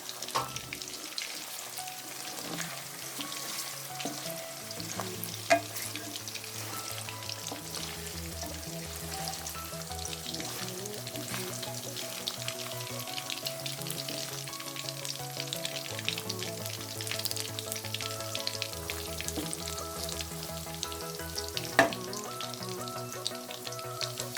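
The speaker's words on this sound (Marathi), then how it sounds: "पनीर आपले फ्राय होऊ लागलेले आहे." Paneer cubes fry in a pan for a mixed vegetable bhaji, giving a steady, dense sizzle throughout with occasional sharper pops, while a soft tonal background melody runs underneath.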